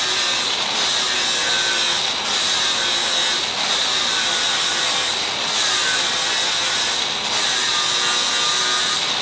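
A flap wheel grinds cut-off thread inserts flush in an aluminum transmission case, making a loud, continuous whirring rasp close by that rises and dips slightly with the pressure.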